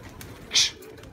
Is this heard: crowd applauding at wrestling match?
no